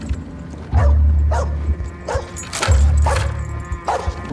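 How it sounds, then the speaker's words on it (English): A dog yips and barks in a drama series, a few sharp calls spaced apart over low rumbling background sound, fairly close and loud. "Freaking dog."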